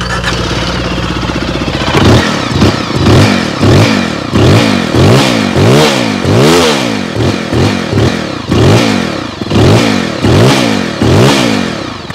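A Zontes 350R naked street-fighter motorcycle's exhaust barks through a rapid series of loud, close throttle blips, each rev rising and falling sharply after a brief idle at the start, with no voices over it.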